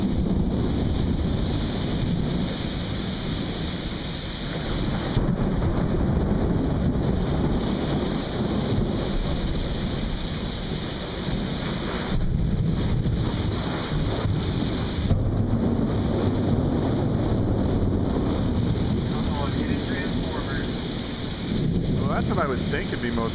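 Storm wind sweeps past houses and roofs near the coast, a continuous loud roar and buffeting across the whole stretch with brief lulls, while people talk in the background.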